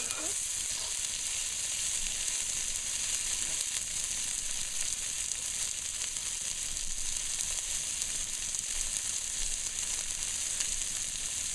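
Ingredients for Multani soup sizzle steadily in a frying pan, a soft continuous hiss that stays even and close throughout.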